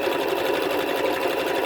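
A sewing machine stitches a taqiya cap in a steady, fast, continuous whirr that runs close and unbroken throughout, with no talk over it.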